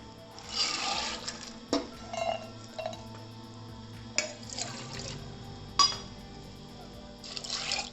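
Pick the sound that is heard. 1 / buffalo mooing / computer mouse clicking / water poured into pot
water poured into pot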